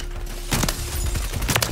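A single sharp gunshot rings out during a video game weapon test, brief and loud, followed by further clattering game sounds.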